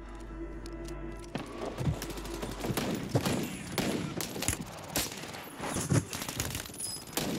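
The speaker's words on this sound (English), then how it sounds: "Who the fuck is shooting me?" Rapid bursts of automatic gunfire in the game Warzone, moderately loud with clustered shots and short pauses between volleys, no talking.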